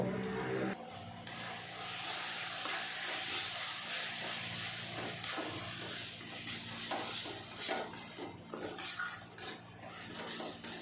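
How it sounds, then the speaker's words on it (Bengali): Cumin powder, coriander powder, chilli powder and salt fry in a pan for a mutter paneer curry, giving a steady sizzling hiss mixed with repeated scraping and clinks of stirring, with no speech. "জিরার গুঁড়ো ধনিয়া পাউডার আর লঙ্কা পাউডার আর স্বাদ মতন লবণ দিয়ে ভালো করে কষিয়ে নেব"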